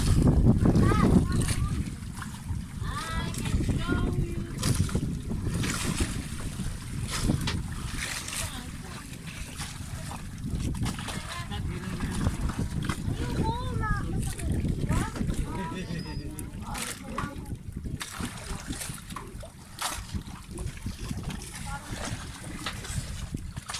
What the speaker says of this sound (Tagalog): Medyo malakas na yung hangin. Pero kalmada naman ang dagat. May alon-alon lang.